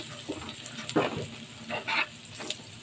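Onion and chili frying in a pan for rohu fish: a soft, steady sizzle with occasional stirring scrapes and small bursts, fairly quiet and close.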